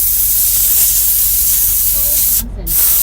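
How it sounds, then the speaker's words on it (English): An air hose blasts compressed air across the wet floor of a truck cab in a continuous close, loud hiss, broken by a brief pause near the end before resuming. "I'm spraying the floor with my air hose."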